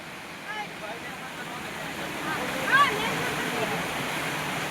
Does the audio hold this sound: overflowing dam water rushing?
yes